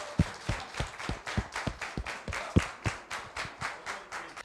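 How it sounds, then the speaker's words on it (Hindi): Audience at an office meeting claps in a sparse, rhythmic pattern of distinct individual claps, roughly steady beats rather than a dense roar, moderately close and without speech. "बहुत ज़्यादा तालियों के साथ स्वागत शर्मा"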